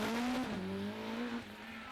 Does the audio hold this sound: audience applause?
no